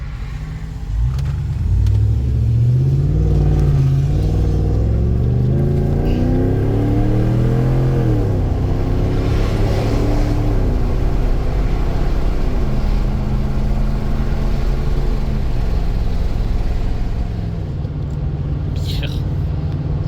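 Car fitted with JBA shorty headers accelerating, its engine rumbling loud and close with rising and falling pitch through gear changes, a voice speaking over it at times.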